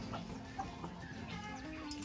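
Frightened farmyard chickens cluck in short, scattered bursts, fairly faint and moderately distant, with no talking.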